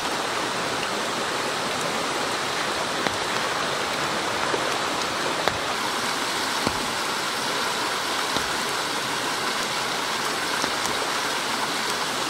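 Steady rain falls at a mountain valley campsite in Pyeongchang during car camping, a dense, continuous hiss with scattered louder drops hitting nearby surfaces throughout.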